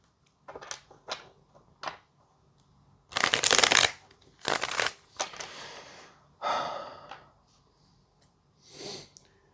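Tarot cards are shuffled and handled close to the microphone in a series of crisp riffling bursts, some long and some short, separated by quiet pauses, with no voices.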